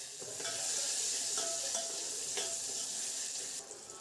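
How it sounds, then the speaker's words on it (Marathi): Cumin, green chili and garlic hit hot oil for a home-cooked tadka, a loud, close, continuous sizzle with stirring scrapes and bursts of spattering. "त्यानंतर याच्यात मिरची आणि लसूण टाकू."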